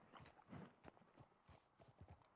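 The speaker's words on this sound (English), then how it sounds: "I hear her horse, I think." A horse's hooves clip-clop faintly at a distance, irregular soft thuds drawing closer over a couple of seconds with quiet surroundings, ending in a sudden loud bump.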